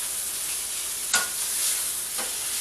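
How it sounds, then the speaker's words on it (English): Cored, seeded jalapeños brown in a hot pan with a steady, close sizzle, broken by two short scraping clatters. "Just getting enough of a browning on them"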